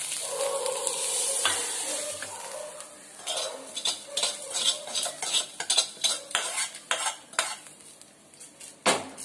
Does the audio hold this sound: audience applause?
no